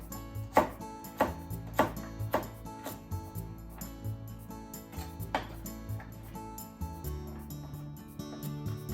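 A kitchen knife cuts a vegetable into sticks and then cubes on a cutting board, making sharp, crisp knocks in quick rhythmic runs followed by sparser cuts, all close by over faint background music.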